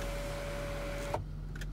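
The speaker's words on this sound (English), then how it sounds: "just to show you the pan roof with the electric blind" Electric blind on the panoramic roof of a 2015 Land Rover Range Rover 4.4 SDV8 Vogue SE, a steady motor whine running for about a second inside the cabin, then stopping with a soft clunk.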